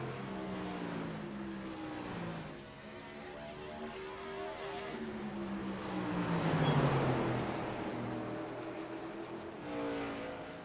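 Race cars circling a track in a heads-up racing event, engines droning and rising in pitch as they pass, one swelling closer and louder mid-way before fading, steady and continuous throughout.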